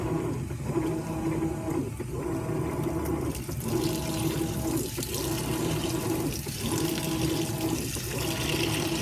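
A Whirlpool Cabrio top-load washer fills with water, a steady rushing gush running continuously with faint rhythmic surges from the drum, heard close and without speech.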